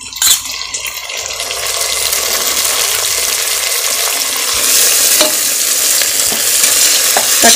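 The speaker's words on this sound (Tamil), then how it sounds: "பாருங்கள், நல்லா வதங்கி வருது. இப்போ தக்காளி ஆட் பண்ணுவோம்." Tomatoes sautéing in a pressure cooker while rava kichadi is made, a steady loud sizzle with stirring scrapes throughout and occasional sharper crackles, no talk.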